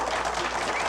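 Applause from a live studio audience during a college football coach's call-in TV show, a steady wash of clapping filling the short moment.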